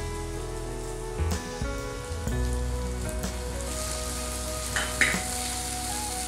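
Chopped tomato and onion sizzling in about two tablespoons of oil over a low flame, giving a continuous close frying hiss with a few clinks and stirring knocks, no voices.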